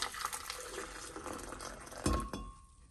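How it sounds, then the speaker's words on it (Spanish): A little water is poured into a blender jar holding guajillo chiles, a soft, close splash and trickle that ends with a brief clink of glass. "Solamente le voy a agregar muy poquita agua."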